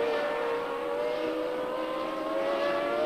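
A Formula 1 car from the 1981 Brazilian Grand Prix screams past, its high engine whine held steady and loud, shifting slightly in pitch, with no voice over it.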